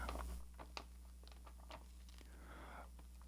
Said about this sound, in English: The tearing sound you're hearing is me opening up my noodles.